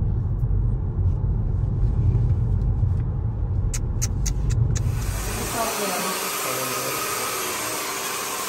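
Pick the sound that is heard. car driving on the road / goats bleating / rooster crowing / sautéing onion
car driving on the road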